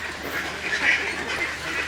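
A flock of ducks on a duck farm quacks and honks nearby, overlapping calls forming a busy, continuous chatter.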